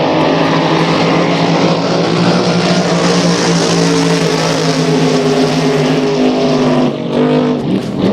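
Racing boats at the 66th annual Blue Water Resort boat race roar past in a continuous, loud engine drone that holds steady for several seconds, dipping briefly near the end before resuming.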